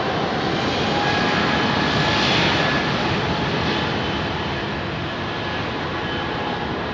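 Steady, loud roar from the engines of a Boeing 747-8 freighter at London Heathrow, a broad, continuous jet rumble that swells slightly and then holds evenly throughout.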